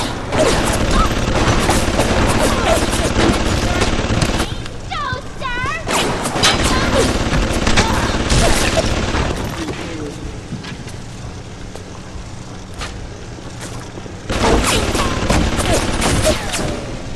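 Turret gunfire in the video game Bioshock: dense, loud bursts of rapid shots fill most of the stretch, drop away for several seconds, then return, with a voice talking over parts of it.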